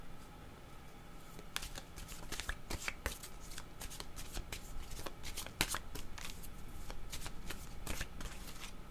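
A deck of cards is shuffled repeatedly in quick riffling bursts and soft flicks, close but quiet, with no talking.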